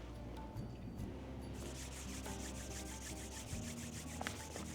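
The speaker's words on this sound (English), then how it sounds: "So rubbing the hands." Palms rub together in steady, close friction strokes during a Kundalini yoga breathing practice, a soft continuous swishing with no talking over it.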